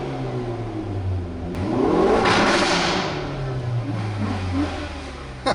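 A Hyundai i30N's exhaust revs up and falls back, with a rising engine roar building to a loud peak. Other cars idle nearby at a car meet, giving a steady low rumble throughout.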